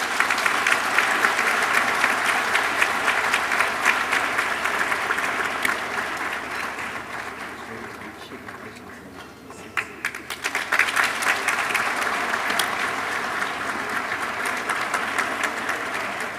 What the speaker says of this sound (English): Ladies and gentlemen, a louder round of applause.